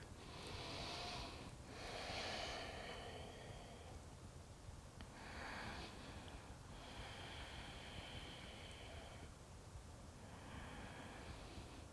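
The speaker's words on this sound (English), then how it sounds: "Breathe deep." Slow, deep breaths during a yoga session, drawn in and released several times at an unhurried pace, soft and close with no talking.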